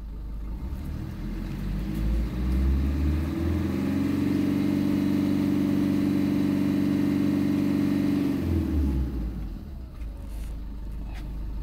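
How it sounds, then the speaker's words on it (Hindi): A diesel vehicle engine revved during a smoke meter emission test, with the probe inserted in the exhaust. A close, loud rumble climbs to a sustained high rev, holds, then drops back toward idle, with no talking. "अब ये कह रहा हमको रेस करने के लिए।"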